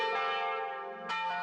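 A large church bell of the Sacré-Cœur in Montmartre, the Savoyarde and France's biggest bell, rings with a rich sustained harmonic tone, struck again near the end so a fresh strike swells over the decaying hum.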